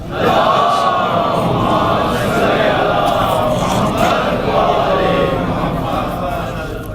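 A large crowd at a Shia religious gathering chants a slogan in unison, loud and sustained, voices rising and falling together in a continuous roar.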